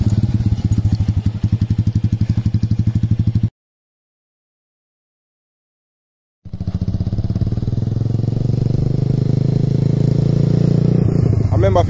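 Motorcycle ridden by a learner rider, a loud close engine chugging that drops out for a few seconds of silence, then returns as a steady rising drone, with someone talking over it.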